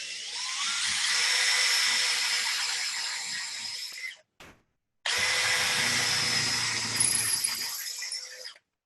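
A power drill bores dowel holes into a wooden wave bowl, running in two long, steady, high whining bursts of about four seconds each, separated by a brief blip and pause.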